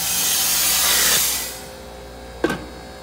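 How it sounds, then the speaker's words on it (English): A Vemag HP25E vacuum stuffer starting up gives a broad rushing hiss of machinery that dies down after about a second and a half, followed by a brief clunk and fainter background noise. "here we have the HP25E vacuum stuffer."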